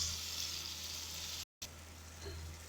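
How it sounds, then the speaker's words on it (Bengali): Marinated chicken frying with spices in a pan gives a steady, hissing sizzle close by, briefly cut off midway, then resuming with faint stirring. "এইবারে আমরা দিয়ে দিচ্ছি আগে থেকে ম্যারিনেট করে রাখা চিকেনটা"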